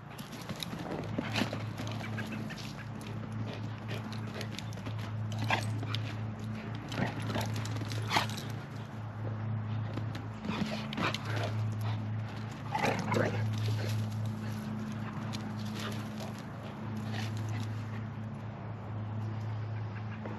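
Dogs on a homestead or farm playing, with scattered yelps and whimpers over a constant low hum and outdoor background noise across the whole stretch.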